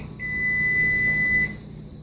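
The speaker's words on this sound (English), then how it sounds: "And there's our timer." A kitchen timer goes off in a home kitchen during baking, giving one sustained electronic beep of about a second over faint room noise.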